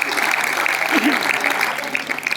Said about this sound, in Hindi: सभी से प्रार्थना है कि तालियों के साथ स्वागत, जोरदार तालियों के साथ एक ग्रुप फोटो।